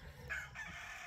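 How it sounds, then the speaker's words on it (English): Several roosters crowing back and forth, faint and somewhat distant, with two drawn-out calls rising above a low background rumble. "Apparently right now my various roosters who just can't wait to sing back and forth."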